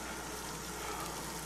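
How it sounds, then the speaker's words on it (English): Steady, dense bubbling and hissing of pasta water at a rolling boil, continuous and fairly close, with no voices. "Water for the pasta is finally boiling"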